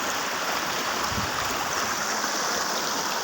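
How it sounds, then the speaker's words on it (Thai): A shallow, gently flowing stream with pools for wading gives off a steady, close rushing and burbling that stays even throughout, with no voices. "นี่น้ำไหลไม่แรง แล้วตอนนี้ก็ไม่ลึกด้วยนะครับผม"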